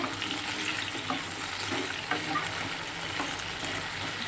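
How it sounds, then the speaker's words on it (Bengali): Potatoes and pointed gourd fry in a pan with onions, a steady close hiss of sizzling oil with a few soft stirring clicks throughout. "আলু পটলটা একটু লাল করে ভেজে নেব।"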